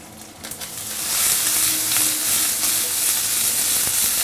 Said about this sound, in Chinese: 直接下入这个腌熟的虾仁儿，